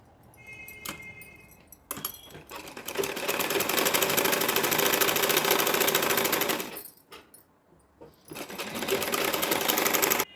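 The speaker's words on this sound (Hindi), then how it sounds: "अब इसको इस तरह से पलटकर एक सिलाई इसके ऊपर से लगा देंगे।" A sewing machine runs in two long bursts of steady, rapid stitching, sewing lace onto an Anarkali gown made from an old saree, with short pauses and start-up clicks between runs and no talking.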